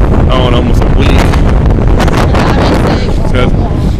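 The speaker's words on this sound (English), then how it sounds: "It's so windy." Strong outdoor wind buffeting the microphone, loud continuous rumbling gusts that fill the whole clip with little break.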